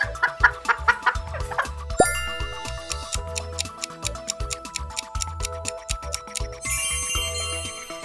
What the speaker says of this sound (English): Guessed right, it's a hen.